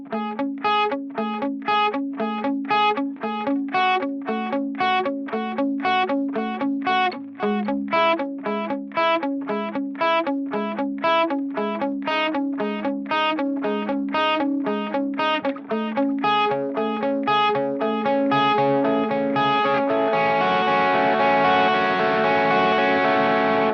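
Electric guitar played through the overdrive channel of a JOYO Tonechain TC-1 multi-effects pedal: a steady run of rapid, evenly picked distorted notes, ending on a sustained, ringing chord.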